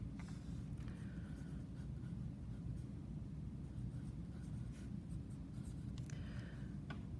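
A pen or pencil scratches steadily on paper while a math equation is written out, heard as a faint, continuous rubbing over a low background rumble with no talking.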